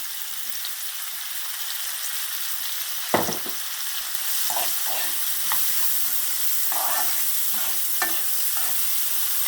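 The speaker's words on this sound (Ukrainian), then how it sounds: "Чуть-чуть треба дати, щоб цибуля прожарилася." Onion sizzling in rendered pork lard in a frying pan, a steady loud hiss with occasional crackles and a few stirring clatters close by, no voices.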